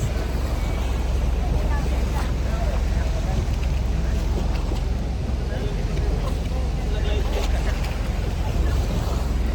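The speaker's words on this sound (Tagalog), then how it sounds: "Lakas ng alon" Strong waves and wind buffet a boat during an island-hopping ride toward a lagoon, a loud, steady rush of water and wind noise lasting throughout, with people talking over it.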